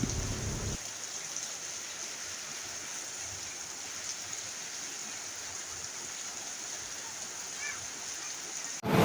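Heavy tropical rain pours steadily during a city flood in Makassar, with a constant wash of rainfall and water noise at even loudness throughout, and a brief louder burst right at the end.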